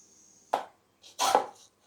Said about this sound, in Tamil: இப்போ கிரேவிக்கு வந்து பெரிய வெங்காயம் நறுக்க ஆரம்பிச்சாச்சு.